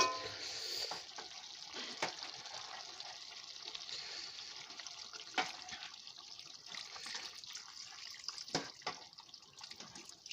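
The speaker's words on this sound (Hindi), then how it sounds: "इसमें थोड़ा पानी डाल के हम हाई फ्लेम में पकाने वाला है, ज़्यादा पानी नहीं देंगे, थोड़ा ही।" Water is poured and splashed into a pan of chicken liver curry on a high flame, making soft, faint trickling and sizzling sounds with a few clinks along the way.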